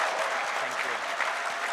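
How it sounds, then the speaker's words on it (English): An audience at a PAX East Animal Crossing panel applauds, a dense steady wash of clapping that stays loud and even for its brief span. "Let's give them a round of applause."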